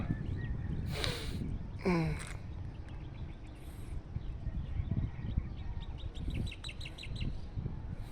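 Birds chirp lightly in quiet mountain countryside, short tweets scattered across a low outdoor hush, with brief human breaths or sniffs close by and no talking.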